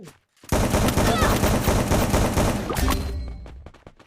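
Video game gunfire erupts in a loud, dense burst of rapid shots, sustained for a few seconds and tapering off with a few scattered pops and faint clatter at the end.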